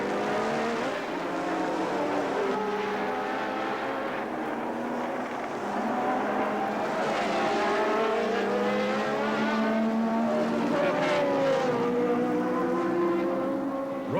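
Renault and Ferrari Formula 1 race cars from the 1982 season racing each other, high engine whines rising and falling as they pass, heard steadily at a moderate distance.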